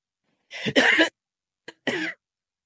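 Two rough coughs in quick succession, then a brief catch and a third shorter cough, close and fairly loud with no talking.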